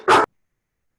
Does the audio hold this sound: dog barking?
yes